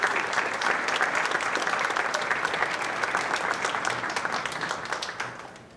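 Applause fills the room at a career and technical education board awards ceremony, a dense run of many hands clapping, with a cheering section, sustained and even before tapering off near the end.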